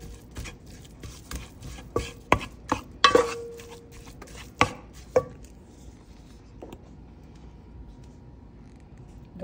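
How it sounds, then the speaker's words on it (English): Fresh garlic being chopped with a knife on a cutting board for spaghetti meat sauce, a run of sharp, irregular close knocks clustered early on, then fading into quiet kitchen room tone. "So you can get the fresh garlic and fresh onion chopped."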